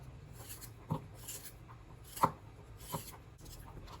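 A knife cuts through roast lamb on a board, giving a few soft, separate slicing and tapping strokes at close range over a quiet background hum, with short pauses between them.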